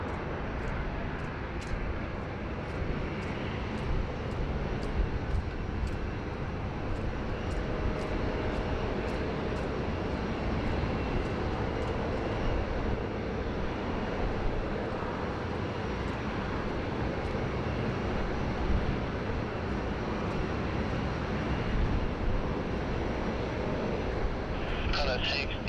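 Airliner landing on runway 07 at Sydney Airport, a steady broadband engine roar heard from a distance, continuous throughout with faint ticking over it.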